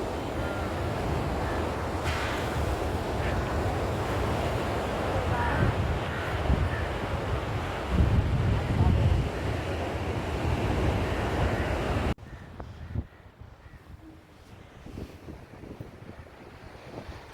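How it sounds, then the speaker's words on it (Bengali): Sea waves roll onto Promenade Beach in Pondicherry, a steady loud wash of surf with heavy wind buffeting the microphone. It turns quieter and thinner toward the end, and a fishing trawler is out on the water. "আমার পেছনে দিগন্ত বিস্তৃত সমুদ্র সমুদ্র"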